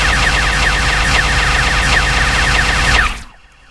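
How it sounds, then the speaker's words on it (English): Ship-mounted laser cannons in the space game Starmade fire in a rapid, loud, continuous stream of repeating zaps that cuts off abruptly near the end, leaving near silence. "So these are my laser cannons."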